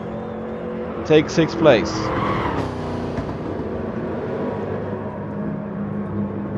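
Classic race cars in a video game, including a green Pantera sliding sideways across the finish line and hitting the wall, with engine roar, sharp squeals and an impact, under a commentator talking.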